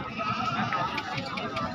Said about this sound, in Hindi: आली बकरी है माशाल्लाह चंगी बकरी है माशाल्लाह खूबसूरत भी है।